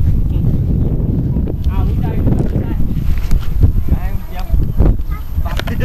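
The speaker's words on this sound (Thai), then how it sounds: "ลมแรงไปหน่อยครับ" Strong wind buffets the microphone at an outdoor R/C model boat outing, a steady loud low rumble throughout with voices talking underneath.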